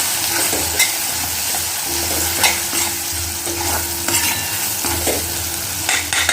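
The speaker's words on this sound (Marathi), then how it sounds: "एक चमचा धणे पावडर टाकते आहे अर्ध्या चमचा गरम मसाला टाकते आहे आणि हे छान असं मिक्स करून घेते" Spices such as turmeric, coriander powder and garam masala being stirred into a frying spinach curry with tomato in a pan: continuous loud sizzling under repeated spoon scrapes and taps against the pan, with no talking.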